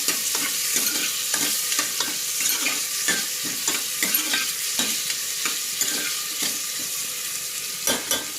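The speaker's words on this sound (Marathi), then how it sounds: "आता आपण चॉप केलेला टोमॅटो आता ॲड करूया। टोमॅटोही चांगला परतून घेऊया।" Chopped tomato and onion sautéing in a pan for a dry chickpea vegetable dish, a steady sizzle of frying broken by regular scraping, stirring strokes of a spatula, close and loud with no talking.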